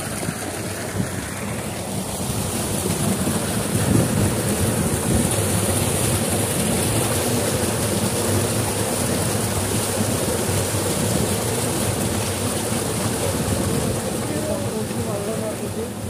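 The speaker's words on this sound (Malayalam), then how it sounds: "ചാലുണ്ടാക്കി വെള്ളം കണ്ടത്തിലോട്ട് പോയിക്കൊണ്ടിരിക്കുകയാണ്." Borewell water runs steadily along a dug earthen channel into a farm field in Hanumangarh, Rajasthan, a continuous close rushing wash with some wind buffeting the microphone, no voices.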